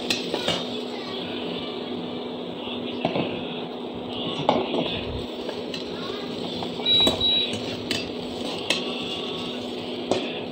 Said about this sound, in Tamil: 1/2 மூடி தேங்காயை ட்ரையாக வறுத்துக்கணும்